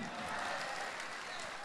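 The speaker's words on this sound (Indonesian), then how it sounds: "Tepuk tangan buat Kamiti." Audience applause at an Indonesian anniversary (HUT) stage event with a comedian: a dense, steady wash of clapping that holds evenly at moderate loudness for under two seconds, without talk over it.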